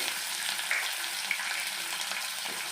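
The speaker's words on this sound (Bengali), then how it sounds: "আমি ওই তেলের ভিতরে দিয়ে দেবো রসুন" Garlic fries in hot oil in a pan, a dense continuous crackling sizzle, close and steady, with a couple of faint clinks of a utensil.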